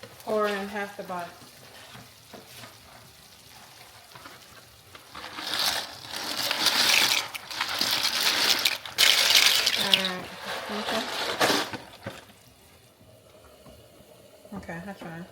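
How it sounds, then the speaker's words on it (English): Liquid from a bottle pours into a hot cooking pan, sizzling and bubbling loudly for several seconds, with talk before and after. "Pour in half the bottle."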